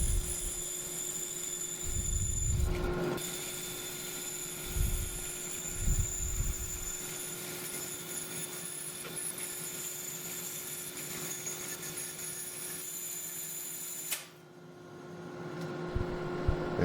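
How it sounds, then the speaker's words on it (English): A bandsaw cuts a 1/8 inch brass plate into knife scales, giving a steady high whine over a low motor hum with a brief harsher burst early on. The sound cuts out abruptly near the end. "cutting that out on a bandsaw"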